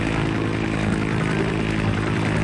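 Engine and rotor-like roar of a cartoon helicopter in flight, steady and loud throughout with no pauses, heard alone without talk.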